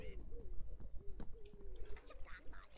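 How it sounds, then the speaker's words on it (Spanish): Pigeons cooing in a modded Minecraft game world, soft repeated low coos rising and falling at a moderate distance, fairly quiet, with other faint game noises around them. "¿Te puedes creer que hay palomas?"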